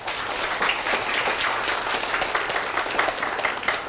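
An audience in a Korea University lecture hall gives steady, sustained applause after a talk on Qu Yuan's Li Sao, a dense even wash of clapping with no voices over it.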